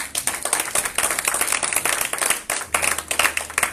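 A church congregation at a Sunday service claps steadily and briskly, many hands together in a dense, close, continuous burst of applause with no voices standing out.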